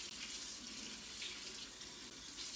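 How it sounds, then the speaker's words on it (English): Hot tap water runs steadily from a kitchen faucet, a close, continuous splashing rush for a few seconds without any talk. "So I'm going to take hot water."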